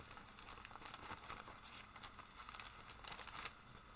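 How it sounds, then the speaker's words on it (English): Packaging crinkles softly and continuously from handling, with rapid papery crackles rising and falling. It is faint and heard close up, with no voices. "Pardon me for the crinkling."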